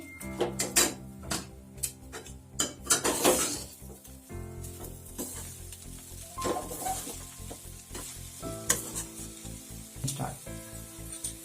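Sugar and chopped coriander are stirred into a kothimbir vadi batter, giving irregular scraping and sloshing bursts of mixing, some louder and close, over a steady tonal hum.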